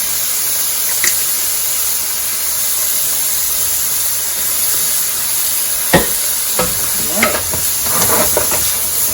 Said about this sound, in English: So I'm just gonna fry this up for a couple more minutes